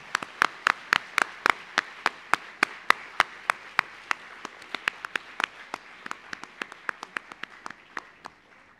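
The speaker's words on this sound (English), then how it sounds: "Please welcome Dr. Narayana Murthy with a huge round of applause." Applause for Dr. Narayana Murthy at a youth leadership lecture at the GSF Smart Campus in Singapore: sharp, evenly spaced claps, most likely from a single pair of hands or a few people, steady for about nine seconds and gradually fading.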